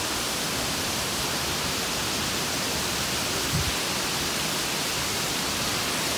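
Rushing water from a waterfall in a Tocantins valley, a steady broadband roar that holds evenly and loudly throughout with no pauses.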